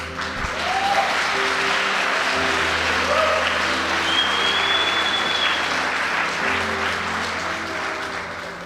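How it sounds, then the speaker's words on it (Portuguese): A church congregation claps steadily and continuously, a broad wash of many hands sustained throughout at an even level, with faint tones and background hum underneath. "Era um bom momento para você aplaudir."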